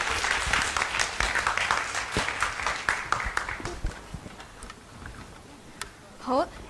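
An audience at a secondary school parent-teacher evening gives loud, sustained applause to welcome a guest speaker. The dense clapping gradually thins out, and a voice speaks briefly near the end.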